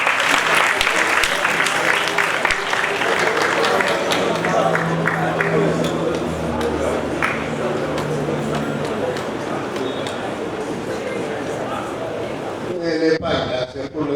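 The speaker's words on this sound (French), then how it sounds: "Donc applaudissez-les pour le présent." A large crowd claps at an outdoor Africa Day 2025 celebration at the African Renaissance Monument, with sustained loud applause and voices mixed in, and a brief pause then a burst of sharper claps near the end.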